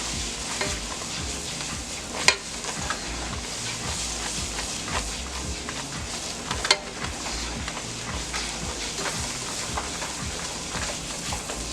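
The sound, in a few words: stirring macaroni and cheese in a pot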